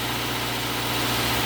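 A Nissan Almera with a QG15 engine idles at a raised, high speed, a steady close mechanical drone with constant low hum and no change across the short stretch.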